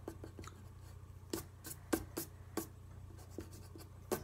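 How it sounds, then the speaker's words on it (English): Faint scratchy strokes sound as an eraser rubs out a pencil lighthouse sketch on watercolor paper, a series of short, uneven rubs close by over a low steady hum. "I wanna erase our sketch of the"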